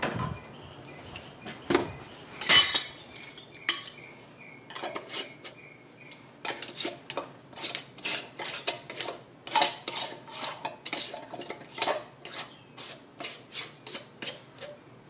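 Glass canning jars of beef pot pie filling clink and knock repeatedly as they are set into a warm pressure canner, a busy series of close, sharp taps and rattles.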